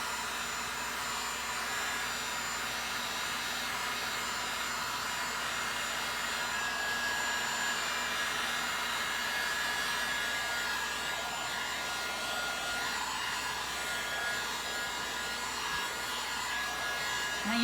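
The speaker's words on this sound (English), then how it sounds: "I'm gonna take my heat gun." Heat gun blowing hot air over paint on a tumbler cup, a loud continuous even whoosh held for the whole stretch with no pauses and no talk.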